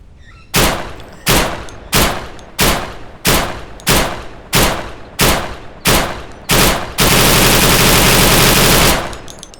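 An AUG rifle fires in the survival shooter Deadside: nine loud, evenly spaced single shots, each with a short decaying tail, then an unbroken roar of rapid automatic fire lasting over two seconds, with no voices.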